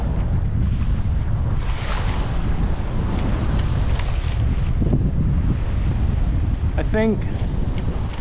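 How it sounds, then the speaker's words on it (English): Steady wind buffets a sailboat at sea, a loud continuous rush across the whole stretch with the hiss of water beneath, and a brief voice speaks near the end. "the wind is just starting to ease off a little bit."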